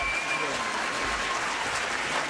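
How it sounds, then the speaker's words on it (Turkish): A large gala audience applauds in a dense, steady wash of clapping at the premiere of the film Ejder Kapanı, sustained and loud throughout without a break. "Çok daha güçlü bir alkış alabilir miyim tüm sanatçılarımız için?"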